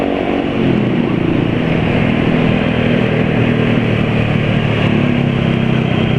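A loud, steady motorcycle exhaust rumbling continuously, deep and throaty, with no pauses or talking.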